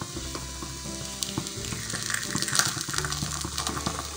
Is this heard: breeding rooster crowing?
no